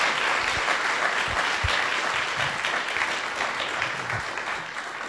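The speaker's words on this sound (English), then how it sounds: "please give them a round of applause." An audience at a summer camp session gives a round of applause, a dense steady clapping from many hands that holds for several seconds and fades slightly at the end.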